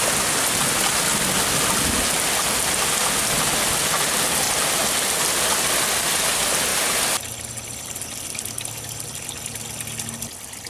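A hard, steady downpour roars over a small backyard koi and goldfish pond for several seconds, then abruptly drops to a quieter patter with faint trickling.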